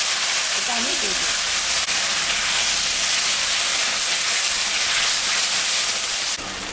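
A ground paste of ginger, chilli, cumin and coriander goes into browned onions for a country chicken curry, giving off a loud, continuous frying hiss that holds steady before a brief, sharper burst at the end.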